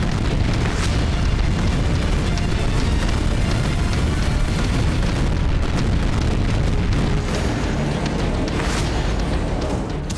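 Artillery rocket strikes at night create a dense, continuous roar of overlapping booms and blasts with no gaps, loud and rumbling throughout.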